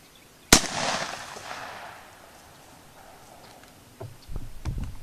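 A handgun bullet, a possible home-defense round, fired into a jug: one sharp, loud crack followed by a long decaying rush, then quiet, with a few soft thuds and rustles near the end.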